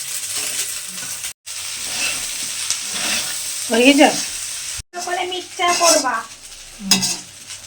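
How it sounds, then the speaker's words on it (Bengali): Pasta with egg, onion and potato fries in a little oil, a steady close sizzle with spatula scraping and stirring strokes against the pan, and faint voices underneath. "এইভাবে কম তেলে একবার পাস্তা রান্না করে খেয়ে দেখো"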